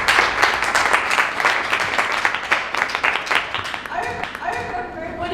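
A room of listeners at a Toastmasters club meeting in a Medina café applauding, sustained clapping from a modest crowd that carries on for several seconds before tapering off as a voice starts to speak over it.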